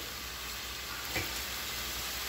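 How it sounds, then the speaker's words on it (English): Sausage and ham sauté in a pot for red beans and rice, making a steady, even hiss of frying with one brief louder clatter midway and no talking. "My sausage and ham been sauteing for about 20 minutes"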